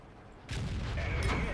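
A deep, booming tank cannon shot in a video game, the default unmodded sound, erupts suddenly after a quiet moment, followed by a rumbling, crackling tail.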